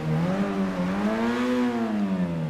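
The Grotti Itali GTO sports car in Grand Theft Auto 5 revs its engine in a sustained, close whine that rises and falls once with no talk.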